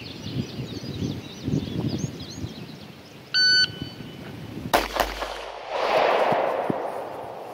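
A few sharp pistol shots crack out in the open at a shooting class in North Carolina, one loud blast standing out, with birds chirping and an electronic timer beep in between.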